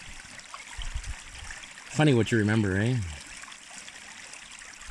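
Small rocky creek trickling steadily in the background, a soft continuous water wash, with a voice talking briefly over it midway.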